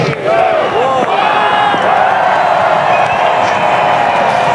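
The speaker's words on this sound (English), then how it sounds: "we've got another sellout crowd to enjoy this wonderful occasion" Sellout crowd at a cricket stadium roaring and cheering, a dense, loud wall of massed voices with whistles and shouts rising and falling, and a commentator's voice running over it.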